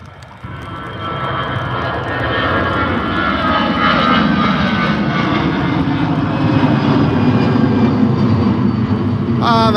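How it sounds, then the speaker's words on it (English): An EasyJet jet airliner takes off from Liverpool John Lennon Airport bound for Lyon, its engine roar swelling quickly and then holding loud and steady, broad and rumbling, close by. "that's the EasyJet flight off to Lyon"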